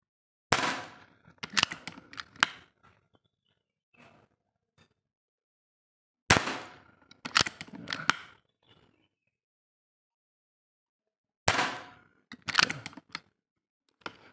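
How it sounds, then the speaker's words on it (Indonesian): A PCP air rifle, a Bocap Predator with hollow barrel and scope, fires a full 14-pellet magazine: three loud sharp bursts about five seconds apart, each a crack followed by quick clicks and rattles of the action, with silence between. "beberapa tes tembakan sudah saya luncurkan. Ini satu magazin penuh 14 butir mimis ya."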